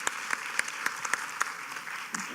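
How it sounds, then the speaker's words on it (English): A conference audience gives a panel speaker a brief round of applause, a steady spread of many hands with several sharper nearby claps punctuating the wash. "give Sid another round of applause"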